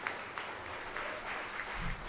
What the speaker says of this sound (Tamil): ஒரு கைதட்டு கொடுத்து அவர்களை வரவேற்க